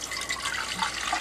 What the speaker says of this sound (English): Now I'm taking the water, and I'm pouring it in.